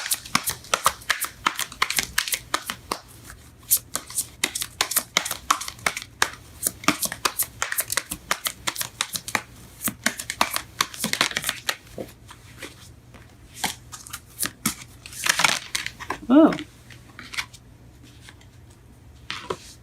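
Romance Angels oracle cards being shuffled by hand, a busy run of crisp riffling and sliding card flutters that carries on steadily throughout, close and fairly quiet, with a brief louder flurry near the end.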